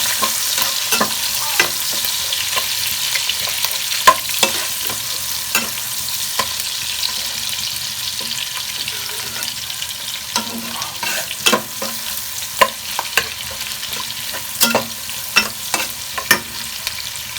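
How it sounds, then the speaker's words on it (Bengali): Steady sizzle of onions frying in oil with repeated scraping clicks of a utensil stirring in a pan, no talking. "আমার পেঁয়াজটা ভাজা হয়ে গেছে"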